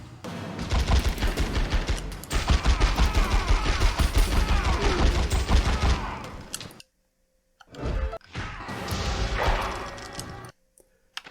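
Heavy gunfire including shotgun blasts rattles in a dense, loud barrage during a fight in The X-Files: Resist or Serve video game, then breaks off into a few scattered shots and crashes.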